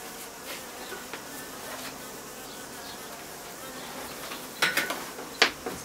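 Honey bees buzz steadily in a soft continuous drone around a top bar hive during comb honey harvesting, with a few brief clinks and a faint voice near the end.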